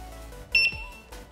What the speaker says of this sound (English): You're gonna hear a couple beeps.